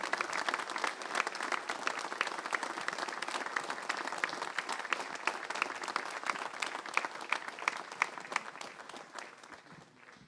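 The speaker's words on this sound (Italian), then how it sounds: "E si scioglie con un applauso l'emozione per questa unità dell'Associazione Nazionale Alpini." A crowd gives sustained, dense applause at an Alpini association commemoration ceremony in the Bosco delle Penne Mozze at Cison di Valmarino; the clapping is steady and moderately distant, then tapers off toward the end.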